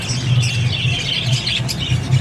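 Plum-headed parakeet giving short, shrill squawks in quick succession, close and fairly loud over a low background hum, with no talking.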